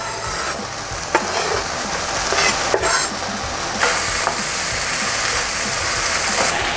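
Minced garlic, onions and celery sizzling in a hot pan, a loud, steady hiss of frying with occasional stirring scrapes and a brief clatter, close by and continuous throughout.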